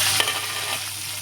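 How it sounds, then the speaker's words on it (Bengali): Garlic and whole spices, dried chilies, cinnamon, cardamom and bay leaves, frying in hot oil with a steady sizzle, close and loud, with a brief stir at the start and no talk. "রসুনগুলো দাগ হয়ে আসছে, এর পর্যায়ে দিয়ে দেবো শুকনো মরিচ, 5 ফোড়ন,"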